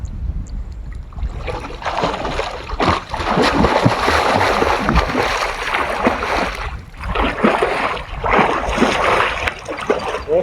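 Continuous rushing, churning water splashes close by as someone dives in while camping in the rain, the turbulent sound swelling and easing over several seconds.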